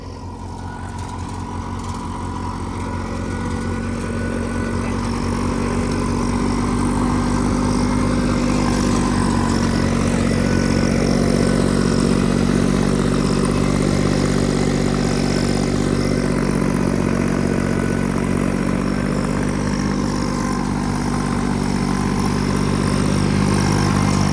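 A Massey 9500 4WD tractor drives a superseeder through a field, its diesel engine a loud, continuous, steady drone that holds a constant labouring pitch throughout, with no talking.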